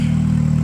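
Nissan S14 engine revving through a very loud aftermarket exhaust, a steady deep droning roar held close up for a brief moment, with no talking.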